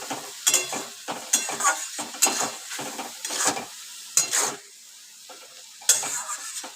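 Spice paste stir-fries in oil with a sizzle, broken into a rhythmic series of loud scraping strokes of a spatula against the pan, separated by short quieter pauses.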